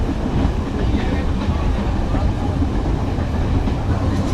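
Steady loud roar of a moving train in Jaffna, with strong wind rushing past the open carriage and a constant rumble of wheels on rail, continuous and close.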